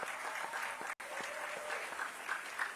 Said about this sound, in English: Let's give them another round of applause as well.